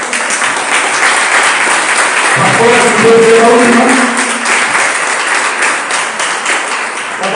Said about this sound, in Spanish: Den un fuerte aplauso, Señor.